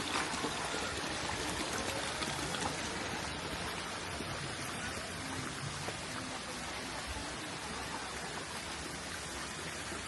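Water pours steadily down the second tier of the Chantathen waterfall in a broad, continuous rushing hiss. It is fairly faint and unchanging, with no voices.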